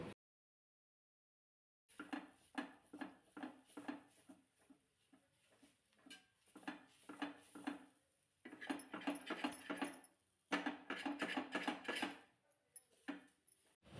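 A spatula scrapes and breaks up egg bhurji on a hot tawa in quick rhythmic strokes, with sharp metallic scratches and clicks in close bursts separated by short pauses.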